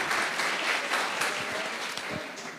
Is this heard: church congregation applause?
yes